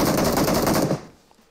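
Rapid automatic gunfire in the mobile battle-royale game PUBG Mobile, a loud dense burst of shots lasting about a second before cutting off into quiet.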